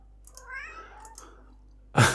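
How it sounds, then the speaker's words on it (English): A house cat gives a short rising meow, close and moderately loud in a quiet room, followed by a sharp burst of noise at the end. "My cat."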